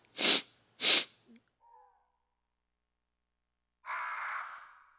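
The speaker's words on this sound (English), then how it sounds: "I have to sneeze." A person sneezes: two sharp, hissy bursts in quick succession, then a short raspy exhale after a pause, close and otherwise quiet.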